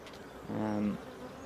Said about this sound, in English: It's got bees on it